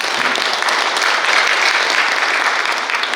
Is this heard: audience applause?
yes